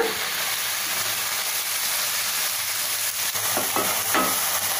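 Spinach (palak) frying in a pan for palak dal fry, a dense, steady hiss of oil close by, with a few soft stirring scrapes near the end and no talking.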